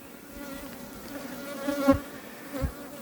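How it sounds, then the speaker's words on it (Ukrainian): Local honey bees buzz steadily from a hive, a continuous droning hum that swells briefly as individual bees pass close by, with no voices. "Це місцева наша бджола."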